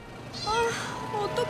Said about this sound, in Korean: 야옹하고 크게 울고는 이내 사라져버렸다